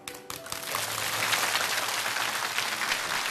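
Studio audience at a televised lecture show bursts into applause, a dense, steady wash of clapping that swells quickly and holds at an even level.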